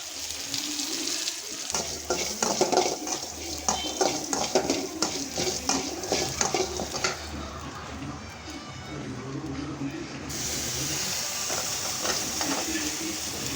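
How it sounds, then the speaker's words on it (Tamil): Pepper, cumin, fennel and a little cinnamon dry-roast in a pan for a country chicken kurma, with rhythmic spoon scraping and rattling of the spices over a soft, steady hiss, close up. "மிளகு ஜீரகம் சோம்பு கொஞ்சம் பட்டை நன்கு வறுக்கவும்"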